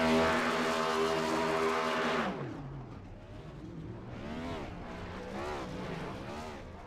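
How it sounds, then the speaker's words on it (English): A race car at Rockingham does victory donuts and burnouts, its engine howling loudly at high revs, then dropping and rising again in repeated swooping surges as it spins and slides. "He does the donuts, he does the burnouts"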